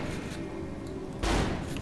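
Gunfire from the video game Saints Row: The Third, a short loud burst of shots erupting suddenly over steady background game noise.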